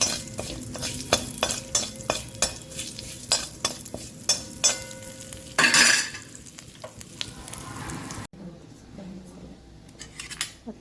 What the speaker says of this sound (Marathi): तेवढं भाजून घ्यायचं थोडंसं तेल टाकून जास्त भाजू द्यायचं नाही